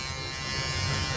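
A voice imitates an electric razor shaving, a steady close buzzing drone that holds for just over a second.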